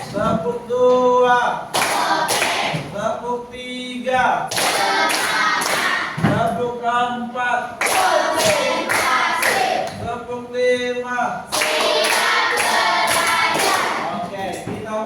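A school class claps hands together in rhythmic bursts during a lesson, loud and close, mixed with group voices chanting along between and over the claps.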